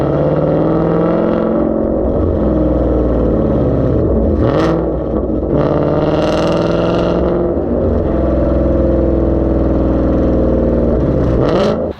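A 2019 Mustang GT with a Roush catback exhaust, smaller mufflers, resonator delete and X pipe rumbles loudly and steadily, with a few sharp throttle blips rising and falling over a deep continuous burble.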